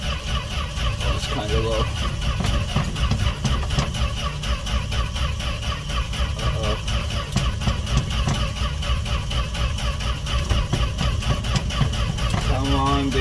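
A Dodge (Fargo) D100 pickup truck cranks over cold at night, its engine churning with a steady, rhythmic, loud chug close by while someone talks over it.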